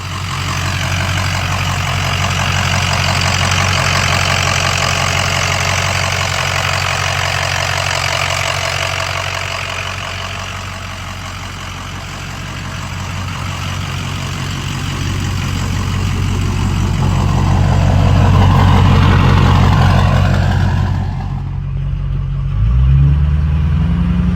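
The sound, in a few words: 6.0 Powerstroke diesel truck engine running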